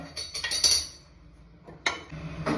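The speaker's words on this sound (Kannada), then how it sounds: "ಮೊದಲಿಗೆ ಒಂದು ಕುಕ್ಕರ್ ತಗೋಣ" A metal pressure cooker is lifted and set back down in a home kitchen before cooking tomato pulao, giving two separate clattering metallic clanks with quiet between them.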